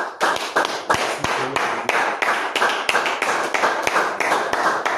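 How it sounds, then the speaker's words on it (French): Congregation clapping at a church service: a sustained run of sharp, steady hand claps in a fairly fast rhythm, loud and close, with no talking over it. "Applaudissons pour le Seigneur Jésus."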